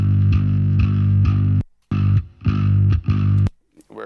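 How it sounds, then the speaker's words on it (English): Distorted bass guitar closing out a song, reamped like a live performance: loud, thick sustained low notes in several phrases separated by short breaks, ending with a brief silence and a faint trailing tone. "So you can hear at the end of the song here, there's distortion."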